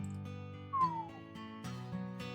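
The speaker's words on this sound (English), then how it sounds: "He lets out a low whistle." A man's low whistle in the Choices video game, a single brief descending tone over a soft background music bed.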